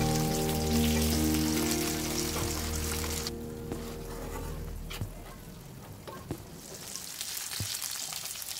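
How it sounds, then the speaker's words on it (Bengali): Pieces of coral fish fry in lightly heated cooking oil, a dense loud sizzle that eases after a few seconds into quieter crackling with occasional sharp pops and stirring clicks. "তেল হালকা গরম হয়ে এলে মাছের পিসগুলো দুই পাশ উল্টে পাল্টে হালকা বাদামি করে ভেজে নেব।"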